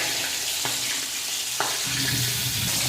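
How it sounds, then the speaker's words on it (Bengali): Bhetki fish bones frying in a pan, a steady close sizzle with a couple of sharp clatters as pieces are added, continuous and fairly loud throughout. "অল্প অল্প করে দিয়ে দিয়ে মাছের কাঁটাগুলো ভেজে নিতে হবে"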